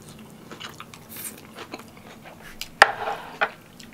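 Fresh poke fish with seaweed salad is eaten at a restaurant, giving soft close chewing with one sharp crunchy bite and a few quieter bites after it.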